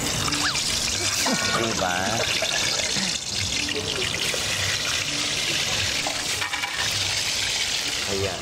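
Rice is washed under running water from a tap, with steady splashing and pouring that fills the whole stretch, close and loud, while people talk over it.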